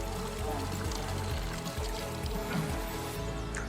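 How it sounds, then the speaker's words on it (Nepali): Hot spring water pours and gurgles steadily nearby on a trail in the Nepal hills, a continuous dense rush with no pauses. "यो चाहिँ तातो पानी हो है।"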